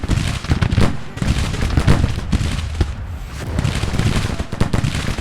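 Musket volleys crackle in a Civil War video game battle with artillery nearby, a dense, continuous spread of overlapping shots and booms, loud and close throughout.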